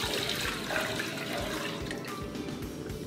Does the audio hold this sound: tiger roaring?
no